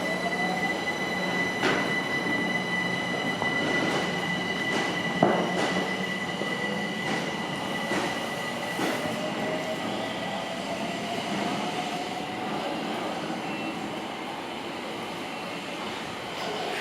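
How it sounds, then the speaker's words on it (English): A London Overground train pulls out of Acton Central station with a long, steady rolling rumble, high wheel squeal and a few sharp clicks. The sound is loud and close and stays even throughout. "This is the train that's just brought me in from Wilson Junction,"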